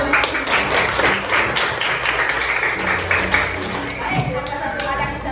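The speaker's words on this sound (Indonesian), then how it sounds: "Tepuk tangan." A classroom of pupils clapping hands together during a lesson, a dense, continuous patter of claps at moderate loudness, with a voice and room noise running through it.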